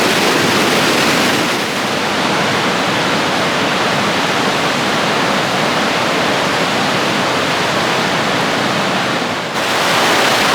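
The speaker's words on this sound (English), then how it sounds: "Hey, look at the rapids." Fast river rapids rushing in a national park setting, a loud continuous broadband roar of churning water that stays steady throughout with a slight dip near the end.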